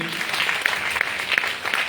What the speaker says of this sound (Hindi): सारे लोगों के लिए जोरदार जबरदस्त तालियां